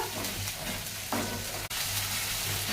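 Ginger garlic paste is stirred into a frying tamarind seed curry, making a constant close sizzle and bubbling with a soft scrape of a spoon and a brief knock.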